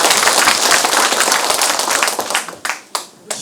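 A talk-concert audience claps loudly and steadily, the applause tapering off into a few final scattered claps near the end.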